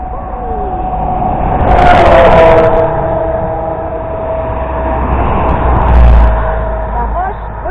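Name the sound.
truck passing by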